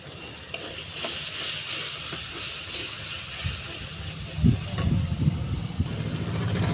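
Water poured into hot masala of tomato and poppy seed in a pan gives a steamy sizzling hiss, moderate and close, swelling with bubbling bursts toward the end.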